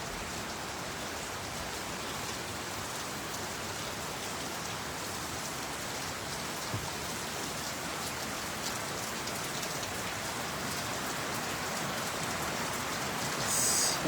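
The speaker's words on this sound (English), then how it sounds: "It's a beautiful evening, even though it's raining." Steady rain falls across a village farm in the evening, a dense, even hiss of drops on surfaces that holds unbroken and fairly close throughout, with a brief louder patch near the end.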